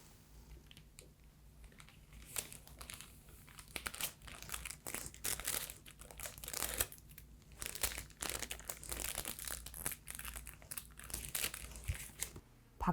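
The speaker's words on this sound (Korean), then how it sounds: "빼주신 초콜릿은 OPP 봉투에 넣어 포장하도록 하겠습니다" A plastic OPP bag crinkles as bark chocolate is packed into it, close and crisp, with irregular rustling bursts and crackles that keep going and build in intensity.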